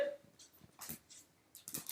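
Soft, quiet dog whimpers and small whines from a shy dog during trick training, broken by rustling and brief noises, close to the microphone.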